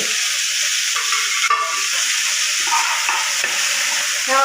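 Steady, loud sizzling of a chili, coriander and onion paste frying in hot oil with whole spices, a continuous bright hiss with faint crackles and no talking.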